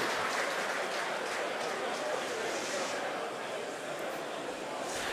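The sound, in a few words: SpaceX team cheering in the background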